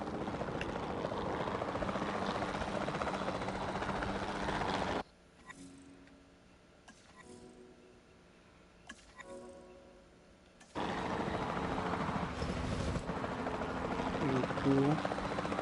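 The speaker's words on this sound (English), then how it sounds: "Then the sensible thing is to take a capture team helicopter." A capture team helicopter in Jurassic World Evolution 2 thrums with a loud, steady rotor drone that drops away to a quiet interior for several seconds, then returns at full strength.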